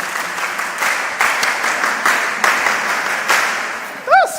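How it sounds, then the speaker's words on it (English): A live audience claps together at a mentorship session, a steady, dense wash of hand claps filling the room for several seconds, with a brief voice rising over it at the very end. "I'm so excited about the hand clap. Can we do it again?"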